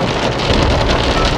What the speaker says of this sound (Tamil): மழை நிற்கவே இல்லைங்க, ரொம்ப அதிகம் தான் ஆயிடுச்சு.